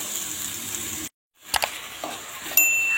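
Tomatoes sautéing in a pan give a soft, steady sizzle with a few stirring clinks. The sound breaks off briefly partway through and then returns a little louder near the end.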